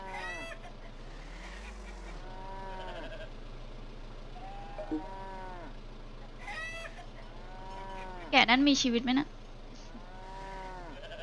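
Sheep in the video game Trader Life Simulator bleat repeatedly, one wavering call after another at a steady moderate level, while a person speaks.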